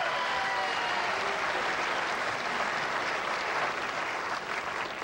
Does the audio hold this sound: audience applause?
yes